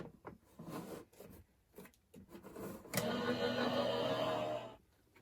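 A die-cutting machine rolls a card between clear plates: a quiet mechanical grinding hum that runs steadily for about two seconds after some light handling clicks and rustles.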